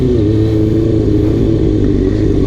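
Kawasaki ZX2R motorcycle engine held at high revs on the throttle, a steady buzzing drone with close, loud, sustained harmonics throughout.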